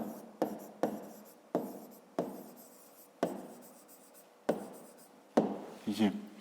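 A pen writes by hand on paper during a grade-five math exercise: a series of sharp taps and short scratchy strokes, close and fairly quiet, separated by brief pauses.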